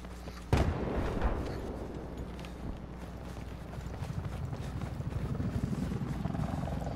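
A Battlefield 4 helicopter throbs with a continuous low rotor drone, a sharp impact near the start, then a thickening, pulsing engine rumble that builds steadily through the rest.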